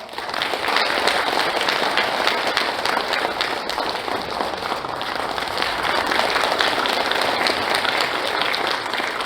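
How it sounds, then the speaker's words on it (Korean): Loud, sustained applause from the audience at a founding convention of a bereaved families' association, dense clapping filling the hall without pause. "우리 모두 대회사의 뜻을 힘찬 박수로 새기겠습니다"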